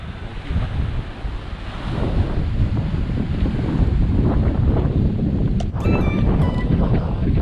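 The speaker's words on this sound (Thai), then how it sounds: "วันนี้ลมก็ค่อนข้างแรง" Strong wind gusts across the open Andaman Sea during a fishing trip, with loud, continuous buffeting on the microphone mixed with wave wash and a brief brighter sound near the end.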